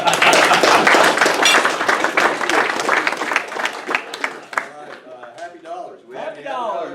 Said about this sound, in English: Thank you for holding your applause till the end.